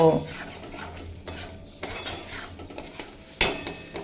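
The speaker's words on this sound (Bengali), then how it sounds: "এবার এড করে দেব ভেজে রাখা আলু দিয়ে মশলার সাথে এক দেড় মিনিট মতো কষিয়ে নেব" Fried potatoes being stirred into spice masala in a pan, with sharp metal spoon clinks and scrapes against the pan over a faint sizzle, a few distinct knocks, close by and without speech.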